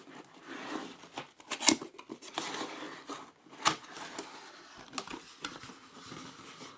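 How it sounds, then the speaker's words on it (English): The box of an EasySMX mechanical gaming keyboard is opened: quiet cardboard rustling, scraping and a few sharp clicks and snaps, close by and with no talk. "now let's go ahead and open up the box"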